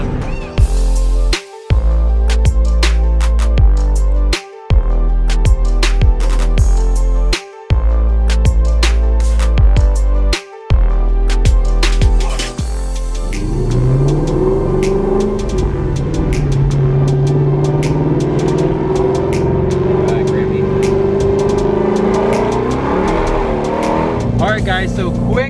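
A Shelby GT350R Mustang revs hard in bursts with brief gaps, then accelerates away with tire noise as it loses traction, loud and close, then a sustained engine drone follows.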